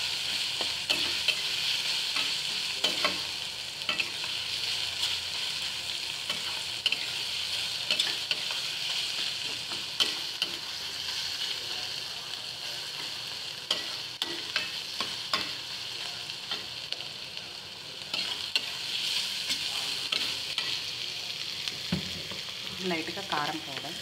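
Onions frying and being stirred in a pan, a continuous close sizzle with frequent scraping and clicking of the spoon against the pan.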